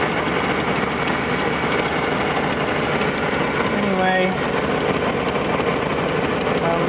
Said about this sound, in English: Sounds like a manifold leak almost.